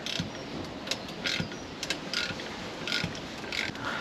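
Socket ratchet clicking in short uneven bursts while working on the airbag suspension of an ERF EC truck, close and fairly faint against a steady hiss of background noise.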